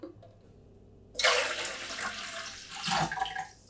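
Vinegar water pours and sloshes through a PC watercooling loop, starting abruptly after a quiet moment, then a close, continuous rushing splash that swells again near the end.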